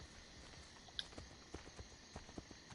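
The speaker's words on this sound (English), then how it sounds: "I hold it down to call my horse" A horse in Assassin's Creed Brotherhood approaches at a run after being called, with faint, distant hoofbeats that beat in an irregular rhythm against a quiet ambient background.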